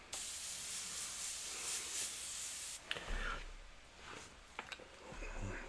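An airbrush sprays paint in a close, steady airy hiss that cuts off abruptly, then returns in softer, shorter bursts amid faint handling noises.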